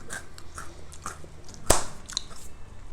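Someone bites and chews a dry, crunchy Colombian coconut sugar candy, giving scattered crisp crunches up close with a couple of sharper cracks.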